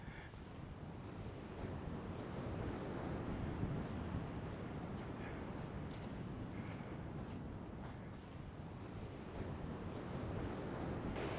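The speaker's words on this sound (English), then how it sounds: "There we are back at the beach, back on that southeast coast." Ocean surf rolls onto a beach on Bali's southeast coast near a fishing village, a steady, loud wash of breaking waves with wind buffeting the microphone throughout and no voices.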